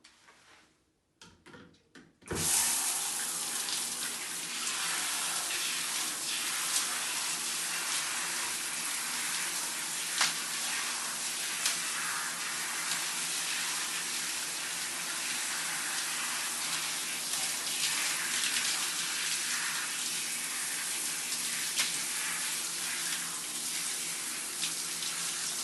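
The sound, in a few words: rinsing conditioner out of curly hair under running water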